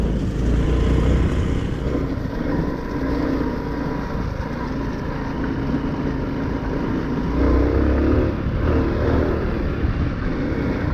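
A Honda Cross Cub 110 motorcycle held in second gear on a rough rural track, its small single-cylinder engine droning steadily and loudly up close with low rumbling and wind noise throughout.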